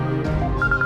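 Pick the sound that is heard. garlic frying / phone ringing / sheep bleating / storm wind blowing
phone ringing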